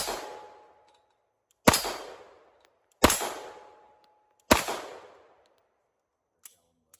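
A Glock pistol with a Brownells RMR cut slide and red dot fired at a target, four sharp, loud shots spaced about one and a half seconds apart, each ringing out and decaying before the next, with faint clinks afterward.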